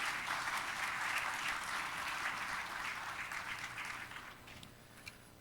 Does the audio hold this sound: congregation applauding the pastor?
yes